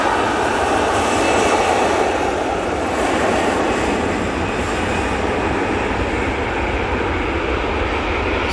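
Airliner jet engines at Manchester Airport give off a loud, steady, broadband roar that holds close and unbroken throughout, with no voices.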